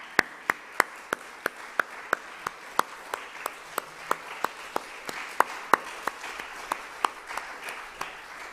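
Clapping at a 200th anniversary celebration honoring Mary Markley, sharp, close hand claps in a steady, evenly spaced rhythm, about three per second, continuing for several seconds over a quiet room.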